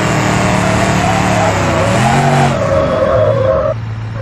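A Mercedes G-Class brakes hard in a brake test, engine roaring as tires squeal and skid in rising and falling tones, loud and close, before the noise drops off as the car stops.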